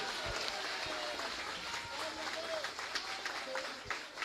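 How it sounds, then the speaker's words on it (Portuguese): A church congregation gives a strong round of applause during a sermon, a steady mass of clapping and crowd noise heard from a distance, with some voices mixed in. "dê um aplauso bem forte ao Senhor"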